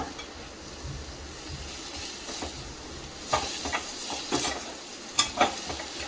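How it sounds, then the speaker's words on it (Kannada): Fresh dill leaves go into a pan of green gram curry, with a steady sizzle and scattered stirring scrapes that grow louder in places, and no voices. "ನೆಕ್ಸ್ಟು ಸಬ್ಬಸ್ಗೆ ಸೊಪ್ಪನ್ನು ಹಾಕೋಣ."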